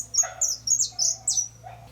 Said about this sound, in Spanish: En una caja nido nidificaron una pareja joven de jilgueros